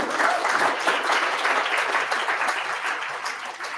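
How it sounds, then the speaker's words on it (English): Audience applause at a tech meetup, a steady dense wash of many hands clapping that holds at an even level throughout, with no talk over it. "so everyone remember the round of applause."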